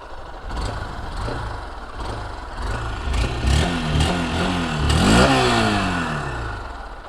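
A 2025 Honda Unicorn 160 motorcycle engine runs close by with a soft, smooth hum, swelling in a series of gentle revs that rise and fall in pitch, moderately quiet overall.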